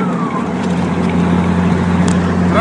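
A turbocharged Chevrolet Silverado pickup accelerating gently on a track, shifting near 2,000 rpm, gives a loud, steady, close engine drone with rumbling low harmonics throughout.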